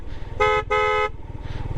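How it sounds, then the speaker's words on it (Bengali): A loud hydraulic horn on a Suzuki Gixxer SF motorcycle honks twice in quick succession, bright and brassy, close up, with the idling engine rumbling underneath. "যদি হর্নটা দেখাই হাইড্রোলিক হর্নটা"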